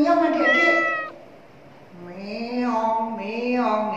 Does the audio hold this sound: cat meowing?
yes